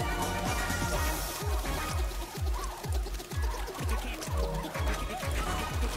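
Clucking birds in the video game Astro Bot: steady, rhythmic chicken-like clucks repeat about twice a second over a busy, continuous musical game background.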